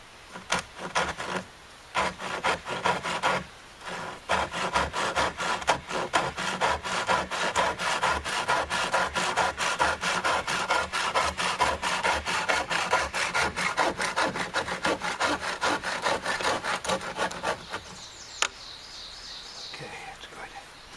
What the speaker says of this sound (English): get the saw and trim that off